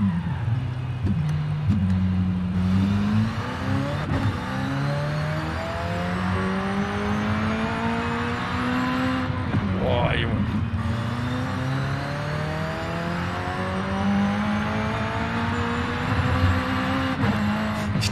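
McLaren Senna engine in Forza Horizon 5, droning loudly as it drives. The pitch rises and falls through repeated gear changes, with a brief dip and tire sound near the middle, and no talking.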